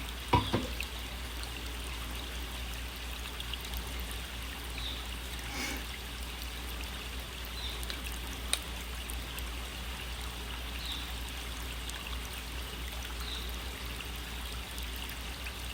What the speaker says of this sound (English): the best thing is being able to use my hose again